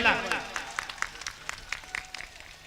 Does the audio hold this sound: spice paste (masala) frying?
no